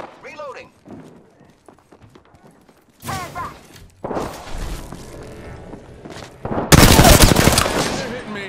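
Gunfire in a battle royale shooter: bursts of rapid shots that grow louder toward the end, over quieter game sounds, with a voice speaking in between.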